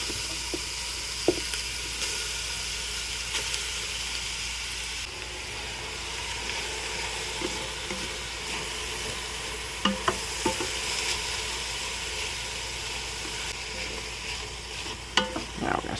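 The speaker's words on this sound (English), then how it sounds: "Now we're going to start by just kind of searing our meat a little" Meat sears in a heated pan on the sear setting of a Ninja cooker, giving a steady close sizzle and hiss throughout with a few faint clinks and scrapes of stirring.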